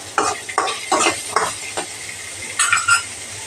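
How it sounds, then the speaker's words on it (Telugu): Okra fries in oil in a pan, with a series of short, close sizzling bursts as it is stirred and scraped, separated by brief quieter gaps. "కొంచెం ఆయిల్ వేసి ఫ్రై చేద్దాం"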